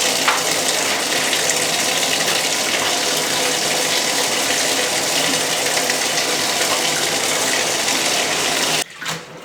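Water gushes loudly and steadily from a tap while a bathtub is rinsed down, continuing for several seconds before cutting off abruptly near the end.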